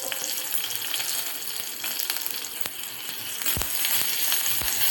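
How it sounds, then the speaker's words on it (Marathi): Curry leaves and asafoetida fry in hot oil as a tempering for mango raita. A continuous sizzle is broken by several sharp pops and crackles, growing slightly louder toward the end. "फोडणी छान परतून घ्यायची आहे आपल्याला"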